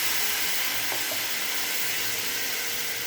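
Bottle gourd and whole green chillies sizzle in hot oil with a five-spice tempering, a steady, dense frying hiss that holds evenly at close range for the full length, with no voices.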